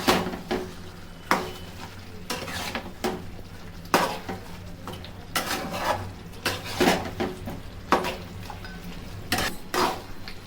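Mutton curry stirred in a metal pot for a Bengali Sunday meal, a ladle scraping and clanking against the sides in repeated strokes every second or so over a low background hum.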